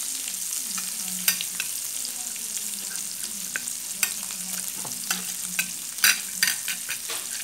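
Seasoned rice is stirred and fried in a pan, with a steady sizzle and frequent scraping clicks of the spoon, close and alone.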